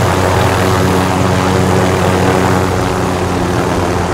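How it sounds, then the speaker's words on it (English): A helicopter in the video game Call of Duty: Warzone flies close and loud, a steady droning rotor and engine roar with a strong low hum that holds unchanged throughout. "I'm gonna get rid of the helicopter."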